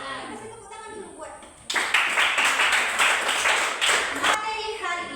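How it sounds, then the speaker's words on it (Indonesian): A group of children clap their hands together in a classroom lesson, the sharp rhythmic clapping starting abruptly after speech and continuing loud and close for several seconds before stopping, with voices heard around it. "Kasih tepuk tangan dulu buat"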